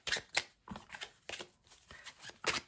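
Tarot cards are shuffled by hand in quick riffling bursts, a string of crisp papery flutters repeating at close range in a quiet room.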